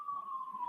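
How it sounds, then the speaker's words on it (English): A siren wails at a steady pitch, heard briefly and somewhat distant, with faint background noise beneath it. "There's those sirens."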